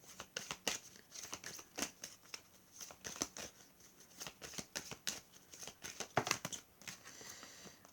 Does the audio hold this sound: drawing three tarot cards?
yes